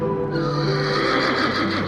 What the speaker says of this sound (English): Philonicus the Thessalian brought Philip a horse named Bucephalus